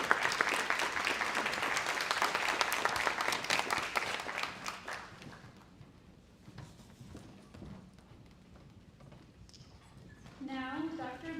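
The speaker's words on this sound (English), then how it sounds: "Could we give a final round of applause for our winners?" Applause for award winners at an annual awards banquet: a dense burst of clapping that fades out after about five seconds into a quieter room, followed by a voice starting to speak near the end.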